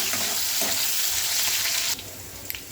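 Tempering ingredients for a village-style broad bean (goruchikkudu) curry fry in hot oil with a steady, dense sizzle, close and alone, easing off abruptly near the end with a couple of faint clinks.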